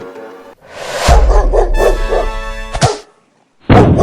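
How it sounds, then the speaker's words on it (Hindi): Dog barks sharply in a Hindi animated Chacha Chaudhary cartoon, a few loud close yelps and woofs in quick succession with a brief pause, then another burst at the end, no talk over them. "डॉलरों के नीचे कुत्ता छुपा था।"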